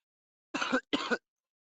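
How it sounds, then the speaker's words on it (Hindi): A man clears his throat and coughs twice in quick succession, two short, close, rough bursts alone against silence. "माफ करना, आज ज्यादा ही खांसी हो रहा"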